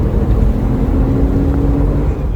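Steady engine drone from a Porsche Boxster S with a constant low hum and a faint tonal line, heard from inside the car with no talking.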